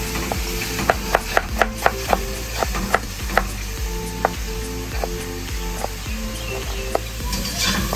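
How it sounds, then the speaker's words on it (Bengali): Knife chopping tomatoes finely on a board, a quick run of crisp, evenly spaced taps that slows into sparser cuts, with frying sizzle and chirping birds behind. "তাই টমেটোগুলো আমি এবার কুচি কুচি করে কেটে নিচ্ছি"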